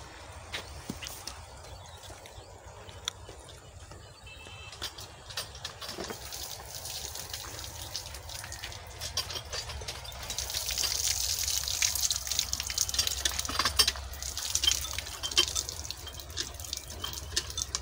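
Water runs from a tap at a home biogas setup, a soft steady trickle with dripping that grows louder and more splashy in the second half, with no voices.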